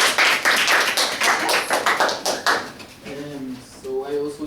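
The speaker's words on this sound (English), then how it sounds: "Let's give a big round of applause." Students in a classroom clap for a classmate, a few seconds of brisk clapping that tapers off as a voice starts speaking over the last claps.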